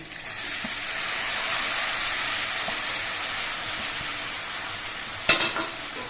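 Banana flower frying with turmeric in a pan, a steady loud sizzle close by with a few faint scrapes and one sharper clatter near the end.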